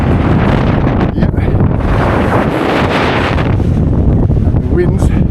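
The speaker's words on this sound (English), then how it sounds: "the wind's getting up" Strong, freezing wind roars and buffets the microphone on a winter fell walk in the Lake District, loud and continuous, with a voice partly heard under the gusts.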